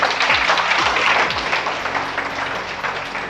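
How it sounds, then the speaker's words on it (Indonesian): An audience at a business talk breaks into applause, a dense, loud wash of clapping that starts strong and gradually thins, with no speech over it. "Oke, tepuk tangan dong."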